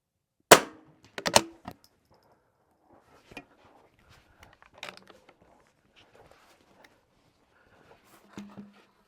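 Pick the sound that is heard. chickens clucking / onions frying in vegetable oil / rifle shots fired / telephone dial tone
rifle shots fired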